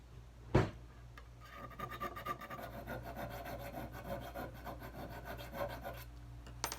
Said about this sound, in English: I'm just going to go use this file to file around the hole to make it